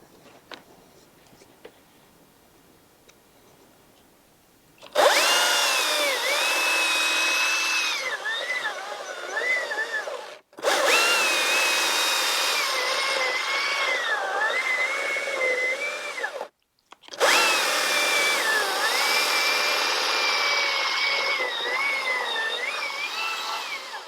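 A chainsaw cuts a felling notch in a tree, running loud and close in three long sustained bursts with brief pauses between them, its pitch wavering as it bites into the wood.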